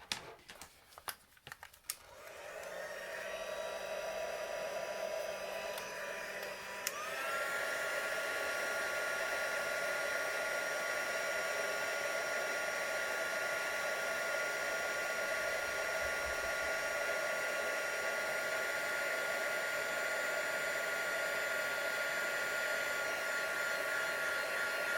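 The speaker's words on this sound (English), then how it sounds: "Add our embossing powder, and then let's set that with our heat tool." An embossing heat tool blows hot air over embossing powder on a handmade card, a steady, loud whooshing hiss. A few clicks and a short rustle come first, then the hiss steps up in strength and holds to the end.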